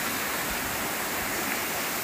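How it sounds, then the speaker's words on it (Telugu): The Chelimichenu waterfall pours between two hills, heard as a steady, dense rush of falling water with no pauses, filling the scene at moderate loudness. "ఇది, రెండు కొండల మధ్య వాటర్ ఫాల్స్ అనమాట"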